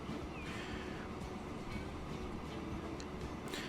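In Transport Fever 2 a train runs along the track with a continuous low rumbling hum and occasional faint clicks, fairly quiet and steady, with no voices over it.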